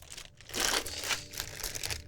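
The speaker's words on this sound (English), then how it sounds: "sorry for all the crinkly plastic" Plastic packaging crinkles and crackles close by in short, busy bursts, swelling louder toward the middle before easing off.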